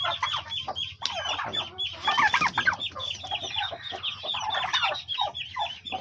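Young turkeys and ducklings kept on a rooftop give a dense, continuous chorus of peeping and clucking calls at close range, busy and overlapping throughout with no speech.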